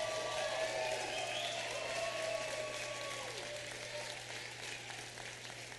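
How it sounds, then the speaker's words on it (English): A rally crowd applauds Lieutenant Governor Rebecca Kleefisch at a Wisconsin campaign event for Governor Walker's 2012 recall election: steady, dense clapping that holds through and fades slightly toward the end, with a low steady hum underneath. "Let's give a great round of applause to Rebecca as well."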